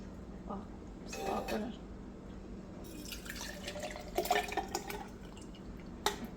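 Liquid trickles and drips into a container in short bursts, fairly quiet and close, with faint background hum.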